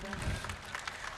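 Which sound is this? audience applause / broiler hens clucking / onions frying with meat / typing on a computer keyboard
audience applause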